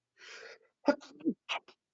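A single sneeze bursts out close by, preceded by a breathy intake and followed by a few short vocal sounds.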